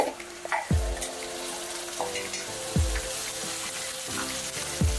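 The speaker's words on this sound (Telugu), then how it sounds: "ఇది కూడా పచ్చివాసన పోయేంత వరకు ఫ్రై అవ్వాలి." Blended spinach sizzles steadily in hot oil, with a few clinks and scrapes from stirring in the pan at intervals.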